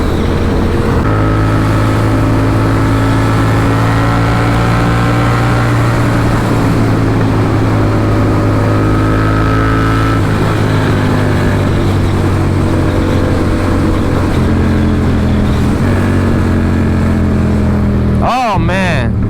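A motorcycle riding along a road, a loud, steady engine drone with shifting pitch as it changes speed, and strong wind rush throughout, close and continuous.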